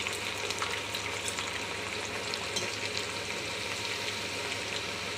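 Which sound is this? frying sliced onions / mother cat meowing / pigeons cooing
frying sliced onions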